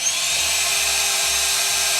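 A Reesibi C1 electric camera and lens cleaner blower runs in first gear at 26,000 RPM, a steady, loud, close high-pitched whir that holds level throughout.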